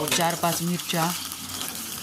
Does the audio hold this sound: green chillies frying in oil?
yes